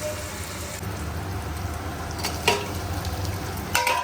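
Onions and capsicum frying together in a pan toward golden brown sizzle steadily, with a couple of sharper stirring clatters over the hiss.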